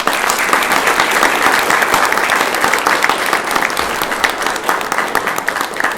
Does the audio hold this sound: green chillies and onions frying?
no